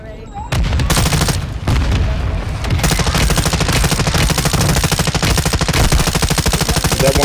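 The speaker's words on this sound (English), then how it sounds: "They put a mortar on me." Loud, nearly continuous automatic gunfire in a Warzone 2 firefight, rapid bursts stacking up with a heavy mortar strike, booming impacts and dense crackle filling the whole stretch after a brief quiet start.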